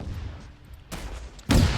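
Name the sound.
rocket launcher firing at target in video game Arma 3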